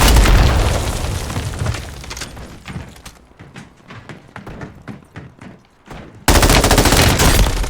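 Gunfire and booming explosions in the video game Call of Duty Warzone, with a loud burst of shooting at the start, then scattered sharp shots and clicks, and another loud burst at the end.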